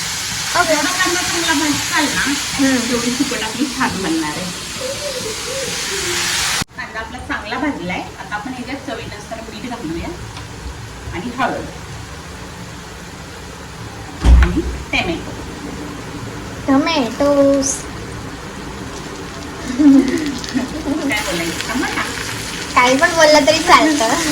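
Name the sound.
dried shrimp (sukat) roasting in a pan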